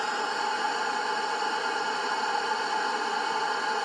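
Steady, unbroken hiss of white noise static from a ghost box at a cemetery fills the whole stretch at an even level, with no voices or other sounds.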